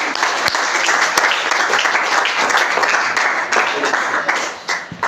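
A church congregation claps loudly and steadily for several seconds, a dense and continuous wash of applause filling the room.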